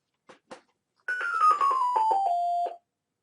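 A Careium alarm unit sounds its acknowledgement tone while pairing an i10 smoke, CO and heat detector: two soft clicks, then a loud, close descending electronic chime of pulsed notes lasting about a second and a half, with no talk.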